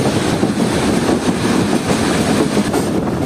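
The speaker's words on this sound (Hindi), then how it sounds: "कुछ ही देर में हमारी ट्रेन पहुंचने वाली है रावलपिंडी रेलवे स्टेशन पर" Jaffer Express train rolling into Rawalpindi railway station, a steady close rumble of wheels and carriages with faint rhythmic clatter and wind noise throughout, no voices.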